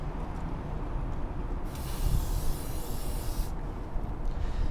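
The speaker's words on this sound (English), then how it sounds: "you're going to liberally spray it onto the chain" Chain cleaner sprayed from an aerosol can onto a motorcycle chain, a steady hiss that swells into a brighter, louder burst for about two seconds in the middle before dropping back.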